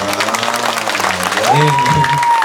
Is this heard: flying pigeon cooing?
no